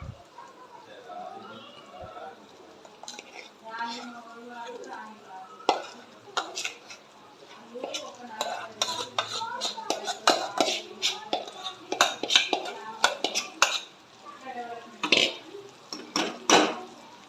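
A utensil scrapes and clinks against a pan in irregular bursts as boiled, mashed potato is stirred into tempering for aloo puri curry, with a voice speaking at times in the background.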